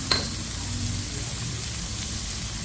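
Onion with yellow and other peppers frying in a pan with lemon juice, a steady close sizzle opened by a sharp clink of a utensil, brief and fairly loud.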